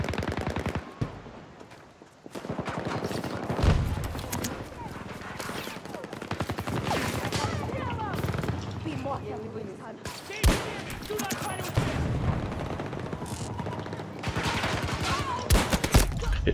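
Gunfire in Battlefield 2042, with DXR-1 sniper rifle shots cracking out in spaced bursts against a dense, continuous wash of battle noise, loud and close throughout.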